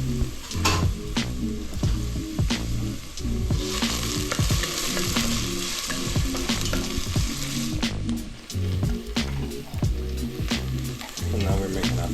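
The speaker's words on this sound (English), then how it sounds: "Here we put our onions in the pot with oil, some minced garlic," Onions and minced garlic fry in oil in a pot, a loud continuous sizzle with frequent stirring knocks and scrapes of a utensil against the pot throughout.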